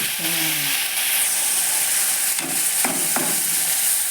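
Tamarind juice hitting hot oil in a tempering for brinjal and broad bean pulihora, a steady close hiss and sizzle of frying with stirring, a voice talking briefly over the sizzle.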